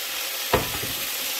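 Pork ribs dropped into hot rendered pork fat for a guisado, giving one sudden loud hiss that settles into a steady close frying sizzle, with no voices.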